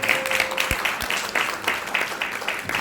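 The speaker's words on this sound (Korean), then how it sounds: "우리 교회 식구들이 박수로 환영을 좀" A church congregation applauds to welcome soldiers just discharged from service, a steady wash of mixed clapping in a hall that carries on for a few seconds.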